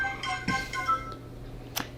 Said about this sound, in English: And that would be Matt texting me.